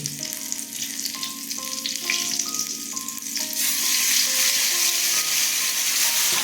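Fenugreek seeds temper in hot oil for a fish curry, a sizzling crackle that swells louder partway through, heard under a soft melodic tune playing in the background.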